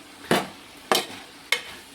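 Three separated sizzling bursts as pepper chicken with capsicum fries in hot oil, each a sharp hiss that fades quickly, close and fairly loud with no talking.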